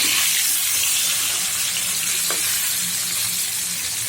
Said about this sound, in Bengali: মাছগুলো ভেজে নিচ্ছি। কড়াইতে আগে তেল গরম মতো দিয়ে দিয়েছিলাম।